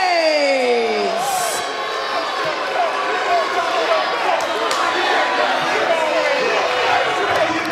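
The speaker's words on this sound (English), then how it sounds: "We hear the very loud, very rowdy crowd we have here tonight" A loud, rowdy wrestling crowd roars and cheers throughout, a dense wall of noise filling the arena with scattered shouts, while announcers talk over it.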